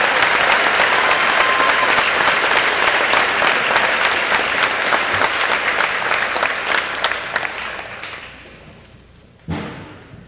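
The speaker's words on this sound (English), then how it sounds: "Please join me in a round of applause as we celebrate our Titan retirees." Loud, sustained audience applause at a high school graduation ceremony honoring retiring educators, dense clapping that fades out near the end, followed by a brief thump.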